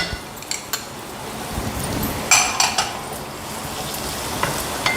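Chopped carrots and beans sauté in a pan with a steady low sizzle, while a spoon stirs and scrapes and clinks against the metal now and then, close up.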